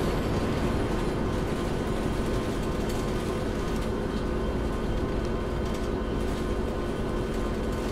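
Trams rumble past in OMSI 2's Chicago setting, a steady, loud, continuous rail roar with wheel noise and no pauses throughout.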